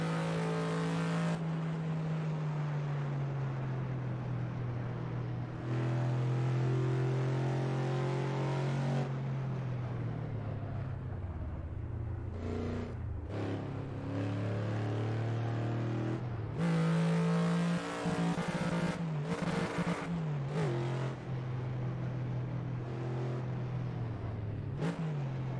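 A fast heavy car in a racing video game roars through six gears toward 200 mph on the Shutoko Expressway, its engine note rising and falling with shifts, loud and continuous throughout.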